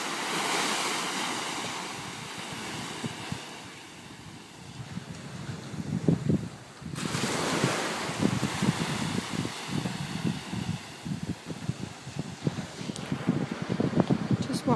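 Ocean surf rolls onto a beach at night while steady wind buffets the microphone, the broad wash of waves swelling and easing continuously, with a louder surge about halfway through and faint voices now and then.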